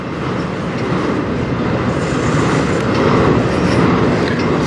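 A CN freight train rolls slowly past at night on the Strathroy Subdivision, a loud, close, continuous rumble of railcars with faint wheel clatter throughout.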